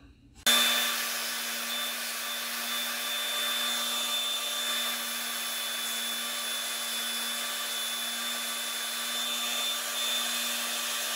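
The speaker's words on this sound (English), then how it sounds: "I think as little material as we're talking about, I'm just going to sand it off" A power sander grinds steadily against a wooden bluegill jointed swimbait, a constant loud whirring motor drone with a faint hum that starts abruptly and runs unbroken for the whole stretch, with no talking.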